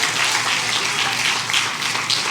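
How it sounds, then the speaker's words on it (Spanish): Church congregation at an evangelical service claps in praise, a short burst of dense, steady applause filling the room with no talk over it. "Dale un aplauso al que vive y reina."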